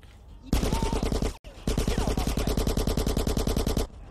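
Rapid automatic gunfire from GTA San Andreas rattles in loud, steady bursts, a short burst, a brief gap, then a long sustained stream of rhythmic shots.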